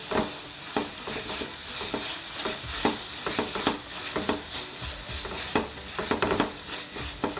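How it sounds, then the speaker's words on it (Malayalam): Chopped cashews and almonds are mixed into carrot halwa in a pan, with a steady run of close, rhythmic scraping and stirring strokes over a soft sizzle. "ഇതൊന്ന് ഇട്ടെടുത്തിട്ടൊന്ന് മിക്സ് ചെയ്തിട്ട് നമുക്ക് ഫ്ലെയിം ഓഫ് ചെയ്യാം."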